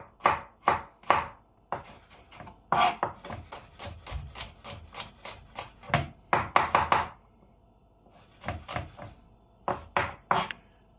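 A knife slices garlic cloves into rounds on a cutting board, crisp close chops in quick irregular bursts with short gaps, alternating with quieter stretches of scraping and board handling; no voices.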